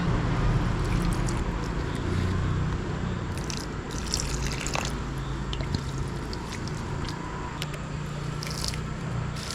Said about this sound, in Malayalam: നമുക്ക് നമ്മുടെ ചെടിക്കെല്ലാം വെള്ളം ഒഴിക്കാം.